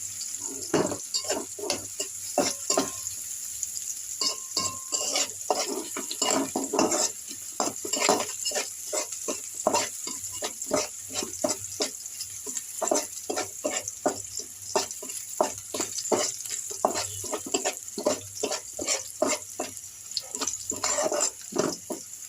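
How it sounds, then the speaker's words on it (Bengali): Tap water runs while leafy greens are washed by hand in a kitchen sink, a steady faint stream broken by frequent quick splashes and rustling handling sounds, with no voices. "আমি শাকগুলো ফুটে ধুয়ে নিচ্ছি"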